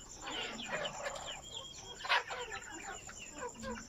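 Chickens in a small backyard farm at night, near their egg-laying spot, cluck and murmur steadily and close by, with one brief louder squawk partway through.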